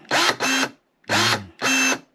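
Newly bought cordless pruning shears cut tree branches with four short, loud whirring motor bursts in quick succession, close up and with no talking.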